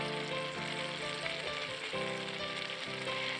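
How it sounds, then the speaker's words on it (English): Shrimp scampi in real butter and garlic sizzles loudly and steadily in a hot pan on medium-high heat, a dense continuous frying hiss with no voices. "going to heat this on medium high for 7 to 8 minutes, stirring occasionally until the shrimp is fully cooked"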